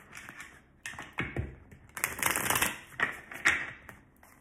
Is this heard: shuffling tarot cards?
yes